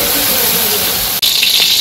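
Vegetables sautéing for fish curry in a village kitchen, a steady loud hiss and sizzle from the pan with a brief break partway through.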